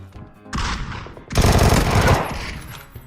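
Video game gunfire in two rapid automatic bursts, a short one followed by a longer, louder one, heard close and dense with no talk over it.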